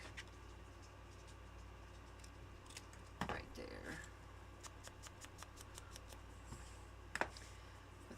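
Scissors cutting material for a craft project, several faint short snips and rustles spread out over a quiet background.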